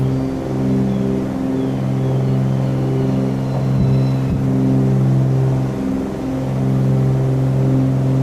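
Twin-engine propeller drone of a Cessna 310R climbing out after takeoff in a flight simulator game, a steady loud rumble with layered harmonic hum throughout, no pauses.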